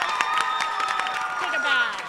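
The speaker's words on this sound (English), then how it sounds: "could we have a round of applause for Cam Arcona?" Applause and cheering for the third-place winner at a poetry recitation competition, scattered clapping mixed with excited voices and whoops, fairly close and lively throughout.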